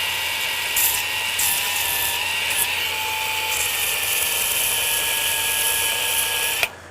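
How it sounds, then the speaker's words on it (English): Mechanical sanding on a Proton Pack prop, a steady high-pitched whine with a grinding rasp that holds level for almost seven seconds before cutting off abruptly at the end. "as far as mechanical sanding sounds, I don't think that's that bad"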